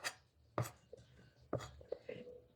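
Knife chopping food on a cutting board for a baking sheet, a few distinct sharp chops spaced about a second apart, close and fairly quiet, with faint background noise between strikes.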